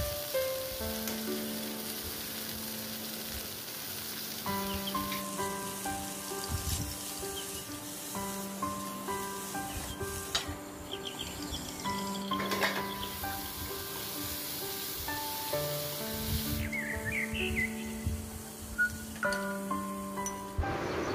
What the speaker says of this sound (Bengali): ফুলকপিগুলো দিয়ে দেব, হলুদ নুন দিয়ে ভেজে তুলে নেব।